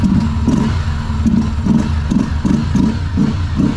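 A cold Honda CB300F Twister motorcycle engine idling nearby, a steady, loud, slightly uneven thumping putter that carries on without a break.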